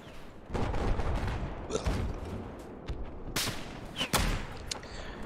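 Rifle fire in the video game Battlefield 4, several loud, sharp shots in quick bursts over a rumbling battlefield background, with some distant booms mixed in.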